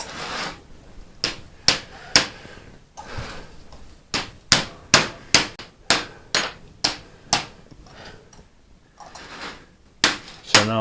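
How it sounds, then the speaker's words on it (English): A copper vase being hammered over a die, sharp metallic strikes ringing out one after another in a steady rhythm, about fifteen close, loud blows with brief pauses between groups. "So now I'll do my final circumferential hammering"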